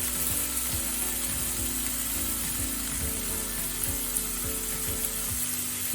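Green peas sizzle steadily in a hot pan with garlic paste, a dense, continuous frying hiss with repeated soft scraping knocks from stirring, close and fairly loud, with no talking.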